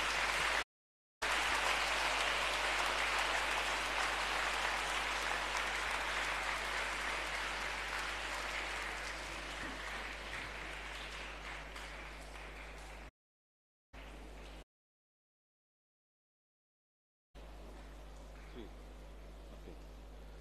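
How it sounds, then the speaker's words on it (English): Audience clapping at a college feast at St Peter's College, a steady dense wash of applause that fades gradually, broken by dropouts and brief silences. "shall we give a good clap for them?"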